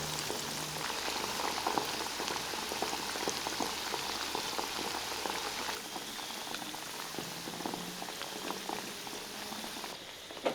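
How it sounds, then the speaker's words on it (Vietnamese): Pork ribs frying in oil over medium heat give off a dense, even crackling sizzle, close and constant throughout, with no voices. "Mình chiên với lửa vừa ha, Không chiên lửa lớn quá để tránh sườn bị cháy bên ngoài"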